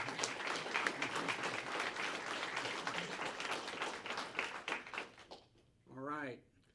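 Audience applause at a police department awards ceremony, a sustained round of clapping under talk that fades out, followed by a brief spoken voice.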